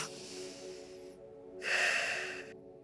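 Slow, deep breathing during a guided relaxation: a long airy inhale or exhale, a brief pause, then a second stronger breath, close and steady against a faint low background hum.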